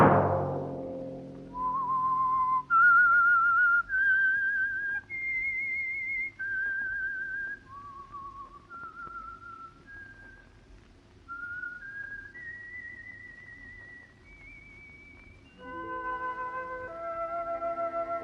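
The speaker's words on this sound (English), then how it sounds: "Let that whistle be your signal for the Signal Oil program, The Whistler" A lone human whistler performs the melodic theme of The Whistler radio program, a slow, clear tune of sustained notes rising and falling over soft orchestral accompaniment.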